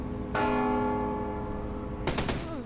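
In the stealth video game Mark of the Ninja, a bell rings out with a loud metallic clang that decays slowly, then a second clattering strike rings again near the end.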